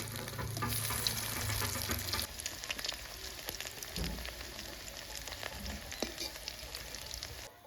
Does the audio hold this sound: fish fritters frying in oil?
yes